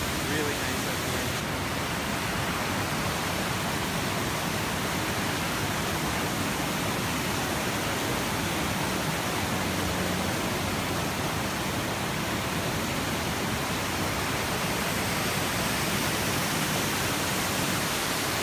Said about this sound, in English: we've finally made it up to the waterfall.